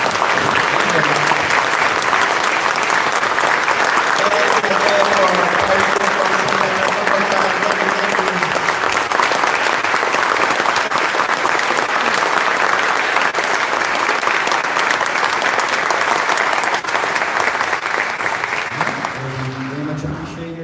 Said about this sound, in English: Give it one last round of applause for our